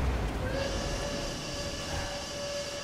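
Train station ambience in Rocket League, with a rumbling train and a sustained whistle-like tone that holds steady for a couple of seconds at moderate volume.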